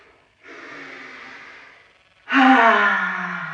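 Two deep, slow breaths during a slow somatic workout: a softer inhale, a pause, then a louder, longer breath with a raspy, slightly voiced edge, close to the microphone.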